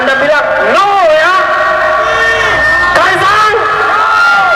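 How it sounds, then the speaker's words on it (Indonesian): Protesters at a demonstration outside the parliament's legislative body shout together in loud, ragged unison bursts, several voices overlapping in repeated call-and-response cries. "Kalau saya teriak Kaisang, Anda bilang no ya."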